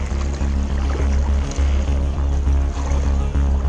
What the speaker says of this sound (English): few inches up from where the water's lapping up the ramp.